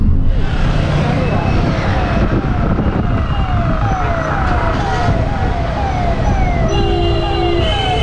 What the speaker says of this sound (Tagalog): May ambulance. Saan ang ambulance siya? Dito pala sa likod namin